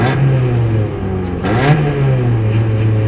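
A car engine revs high, then the pitch sags as the driver lifts off the throttle to rev-match a clutchless shift, dips once more and settles into a steady mid-range hum, loud and close.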